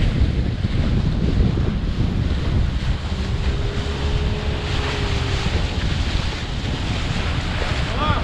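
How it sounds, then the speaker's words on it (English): Strong wind roars across the microphone on a boat in open water, with sea waves washing and churning underneath, loud and continuous throughout with no break. "we made it to open water. The only thing is, it's very windy"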